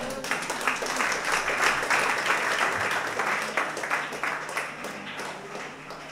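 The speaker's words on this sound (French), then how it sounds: "Est-ce qu'on peut faire une acclamation encore?" A congregation applauds during a Sunday church service, a sustained round of clapping that swells and then gradually fades, heard at moderate distance.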